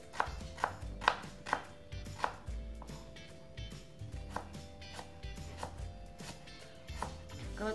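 A knife slices shallots on a cutting board in quick, rhythmic strikes, close and crisp, with a steady run of evenly spaced cuts and no talking.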